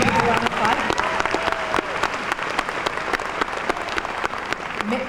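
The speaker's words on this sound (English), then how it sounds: "Megan, let's go ahead and do a round of applause." Graduation audience at John Glenn High School's 2017 ceremony applauds an essay winner: a dense, steady wash of clapping from a large crowd with faint voices and cheers mixed in, sustained throughout.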